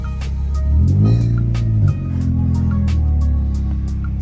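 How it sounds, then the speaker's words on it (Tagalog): A Honda CR-Z hybrid with a stick shift runs close by, its engine droning low, then rising in pitch as it revs before dropping back to a steady hum, with faint clicks over the top. "Hindi ko akalain na ganyan ang tunog ng hybrid."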